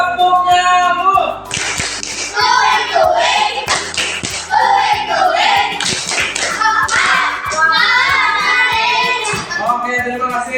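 Children in an Indonesian classroom lesson play the tepuk nyamuk clapping game, with quick rhythmic hand claps and slaps in steady bursts, loud and close, while young voices chant along throughout.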